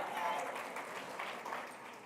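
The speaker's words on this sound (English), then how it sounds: "Let's take this moment again and applaud the teachers who made it possible." Audience applause for teachers at a charter school awards gala, a soft, continuous wash of clapping heard at moderate distance, with a voice speaking over it.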